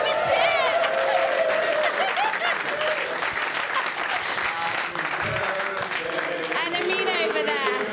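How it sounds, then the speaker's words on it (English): An audience cheers and applauds for a birthday, with dense clapping and whoops throughout and voices calling out over the crowd. "Can we have a cheer?"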